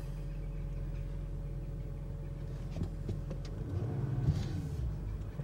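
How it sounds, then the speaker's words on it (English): A Range Rover fitted with a GHOST immobiliser has its engine started from inside, settling into a low steady idle hum with a brief rise in rumble, heard faintly from within the cabin. "it's going to allow us to start the engine"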